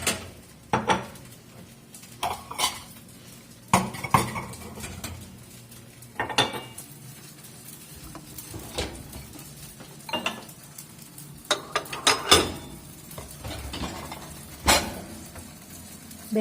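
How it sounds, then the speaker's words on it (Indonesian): Bowls, pans and cutlery clatter in a home kitchen during breakfast cooking while something fries, with repeated sharp clanks and clinks at irregular intervals over a low sizzling background. "Aku goreng dulu congcuaping, bikin sarapan sambil beresin mangkok kemarin malam."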